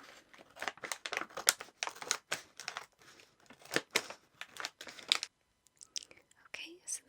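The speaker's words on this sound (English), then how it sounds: "Just gonna cut these open." Crinkly potato chip bags are cut open up close, giving dense bursts of crackling plastic rustle and snipping, with a short pause and then softer crinkles.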